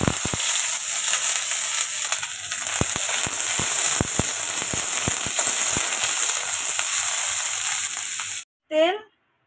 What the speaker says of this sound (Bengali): চলুন আলুটা ভেজে নিই।